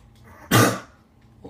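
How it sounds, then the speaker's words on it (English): A single loud, sharp sneeze bursts out close by during a trick shot race between friends, rising suddenly and trailing off within a fraction of a second, with quiet before and after. "That was a loud sneeze."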